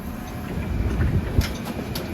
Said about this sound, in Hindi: बस मेरी आ गई है